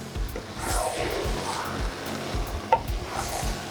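Jambalaya rice with banga and coconut milk being stirred in a pot, a steady scraping and churning with a soft sizzle underneath and one sharp utensil clink partway through.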